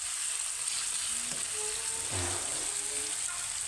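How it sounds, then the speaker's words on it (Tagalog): Tomato and carrot sauté in hot oil with a steady, close sizzle, joined by faint scrapes and knocks of stirring. "gisa-gisahin muna natin yung kamatis guys tsaka carrot uh, gisa-gisahin lang natin hanggang sa makibas yung mantika"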